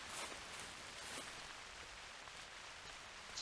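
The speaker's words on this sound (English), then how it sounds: "At least until this rain goes away, hopefully." Rain falls steadily in theHunter Classic, a soft, even hiss of drops that holds faint and constant throughout with no other sounds over it.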